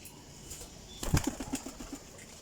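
A pigeon gives a sudden flurry of flapping wings, then a short run of soft, rhythmic coos, close by and fairly quiet against a light background hiss.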